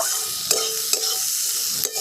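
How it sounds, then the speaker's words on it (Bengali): Potatoes and onions frying with salt and turmeric are stirred in a hot pan, with a steady sizzle broken by three sharp utensil scrapes spaced through the stretch. "আবার একবার সব কিছু ভালোভাবে নেড়ে নিচ্ছি।"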